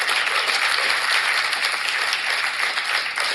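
Steady, dense audience applause at a comedy show, a loud continuous wash of many hands clapping with no talk on top, holding evenly for a few seconds.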